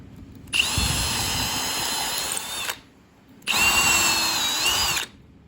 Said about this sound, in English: 13/64 drill bit to drill the new holes into your board.